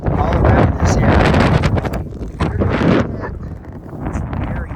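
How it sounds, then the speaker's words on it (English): Strong gusty wind buffeting the microphone in open Ohio countryside among solar farms, a loud rumbling roar that swells and eases throughout. "It's very windy. Very, very windy."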